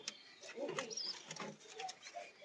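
A female Rajshahi Giribaj pigeon of an old bloodline coos quietly inside its coop, soft rounded phrases repeating close by with light rustling.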